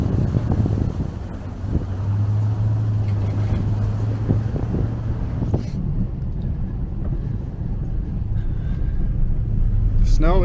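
A Subaru car drives along a snowy trail in mountain woods, its engine a steady low rumble mixed with wind buffeting and crunching, loud and close throughout with no talking.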